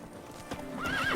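Horse hoofbeats clop steadily in The Witcher 3, then a loud neigh rises near the end, close and clear over a soft game backdrop.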